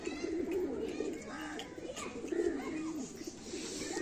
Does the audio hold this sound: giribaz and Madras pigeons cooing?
yes